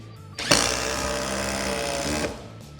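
A Dewalt DCF860 impact driver drives a screw in one sustained, loud, hammering burst lasting under two seconds, close up, then stops.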